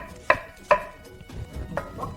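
A knife slicing a cucumber at an angle on a cutting board for Indonesian acar: a few crisp, distinct chops with soft pauses between, close and clear, without any voice.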